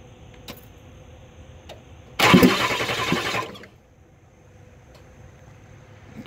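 A 7.3 IDI diesel engine with a sheared injection pump shaft cranks on its starter in one loud, close burst of just over a second, then cuts off abruptly into quiet background.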